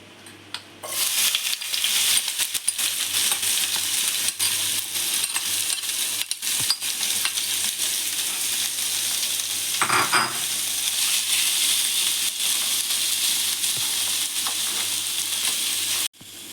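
Fish roe mixed with egg fries in coconut oil in a pan, a loud continuous sizzle with brief scraping clatters of a utensil, cutting off abruptly at the end.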